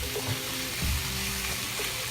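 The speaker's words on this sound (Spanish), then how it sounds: "Añada el tomate y ají amarillo. Cocine hasta el tomate esté suave." Tomato and yellow chili pepper fry in a pan, giving a steady, fairly soft sizzle with a few faint stirring bumps and no voices over it.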